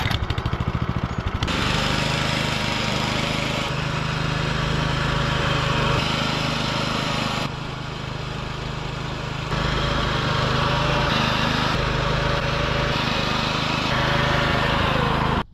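A lawn mower cutting a cricket wicket at a Netherlands ground runs close and loud as a steady engine drone, starting up in the first moments and continuing with slight shifts in load.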